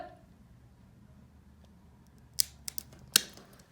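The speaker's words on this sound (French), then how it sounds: "je vais vous montrer là, avec mon coupe-griffe. Donc, je viendrai couper ici." A claw clipper snips through a pet's claw in a few sharp, close clicks after a quiet stretch, with a tiny rustle between the cuts.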